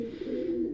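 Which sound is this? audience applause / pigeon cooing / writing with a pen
pigeon cooing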